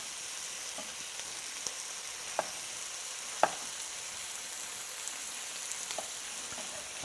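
Egg and tomato sizzling in a pan for a classic Chinese egg-tomato dish, a steady soft frying hiss with a few faint stirring clicks, no talking.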